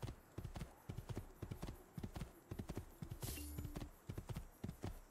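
A horse in the video game Assassin's Creed II trots along with rhythmic, close clip-clop hoofbeats and a brief whinny partway through.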